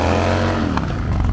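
A Harley-Davidson Softail with a Milwaukee-Eight engine racing in a drifter cross race at a stadium, revving loudly as it passes, then a rough, falling exhaust note with some clatter.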